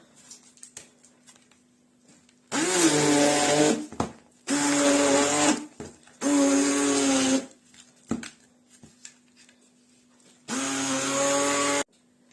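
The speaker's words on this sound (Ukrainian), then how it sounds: "блендером це все перебивати" A hand blender whirs loudly blending a cottage cheese filling in four bursts of a few seconds each, with quiet gaps between them.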